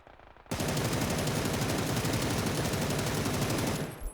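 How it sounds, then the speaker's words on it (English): Sustained automatic gunfire from a weapon fitted with a 6x scope in the video game PUBG: a rapid, loud, continuous burst lasting about three and a half seconds, close and dominant, with no talking. "This will be much easier to shoot now"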